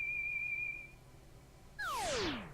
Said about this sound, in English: I recognize that whistle.